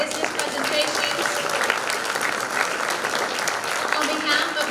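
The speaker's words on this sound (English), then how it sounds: "let's give a round of applause once again for all of our business presentations" Audience applause fills a business presentation evening hosted by a chamber of commerce at a university, a steady, dense wash of many hands clapping throughout with some voices mixed in.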